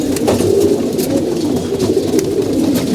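Pigeons coo while feeding, their soft, repeated calls running continuously and close against a steady low background.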